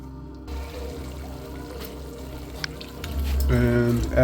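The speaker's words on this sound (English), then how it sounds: "And add the extra broth, and there you have it." Broth being poured into a pot of chicken noodle soup, a soft running trickle that swells to a louder splashing pour near the end, with quiet talk over it.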